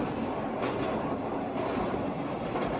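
A Nishikigawa Railway train rolls past close by, a steady loud rumble of wheels on rail with faint clickety-clack and squeal, continuous throughout with no voices.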